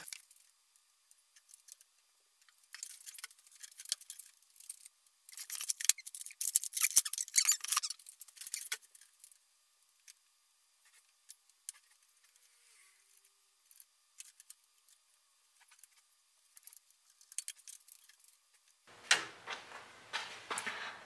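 Someone measures and cuts the bottom rail of a closet door, giving faint scattered scraping and clicking bursts, a louder rasping stretch in the middle, and a final burst of cutting noise near the end, with no talking.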